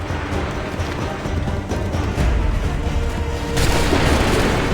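Musket volley gunfire in Assassin's Creed III, heavy booming reports layered into a continuous loud rumble, swelling toward the end.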